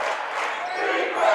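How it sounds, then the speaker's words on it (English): A loud crowd at a boys' playoff basketball game between Westfall and New Lexington, the New Lexington fans chanting "defense" in a steady, sustained roar that swells slightly near the end. "big loud crowd for New Lex, chanting defense, defense"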